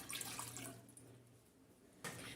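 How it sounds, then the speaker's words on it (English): Water is poured into a cooking pot for rice, a brief close gush of running water that thins out and then briefly surges again. "First, put your water in."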